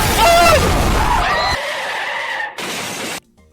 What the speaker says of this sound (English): Why did the jump scare sound like a car crash?